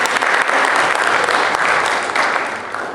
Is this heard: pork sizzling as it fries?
no